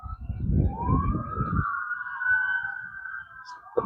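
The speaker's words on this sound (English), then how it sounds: "those cops are using the" Police car siren wailing loud and close in a steady rising-falling tone, with crowd noise and chatter underneath at the start, recorded outdoors during a fishing trip in Texas.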